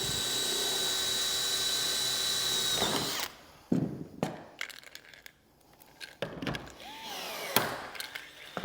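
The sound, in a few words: pop rivets being set into metal bracket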